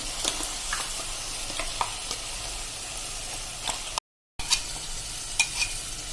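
A tomato, carrot and bottle gourd paste goes into cooking vegetables for macaroni pasta, making a steady close sizzle with scraping stir strokes and a brief dropout partway through.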